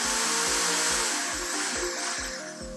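A cordless screwdriver motor spins at full trigger speed, giving a loud, high, steady whine close up, with a faint regular low knocking beneath it and no talk.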